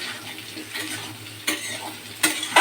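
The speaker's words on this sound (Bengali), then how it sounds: "এবার তেলের মধ্যে একটু ভাজবো, তেলের মধ্যে পাঁচফোড়ন আর জিরার সাথে একটু ভেজে নেব" Raw mango pieces fry in hot oil with panch phoron and cumin, a close, steady sizzle punctuated by a couple of sharp utensil scrapes against the pan.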